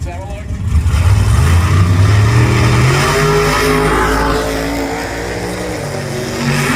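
Drag race car in a track championship qualifier, engine loud and close as it accelerates hard down the strip, a sustained roaring rise that slowly eases and fades slightly toward the end.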